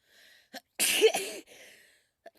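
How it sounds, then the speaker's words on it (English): A single loud, close sneeze with a sharp breathy burst, preceded by a quick inhale and followed by faint breathing. "Okay, I'm gonna sneeze."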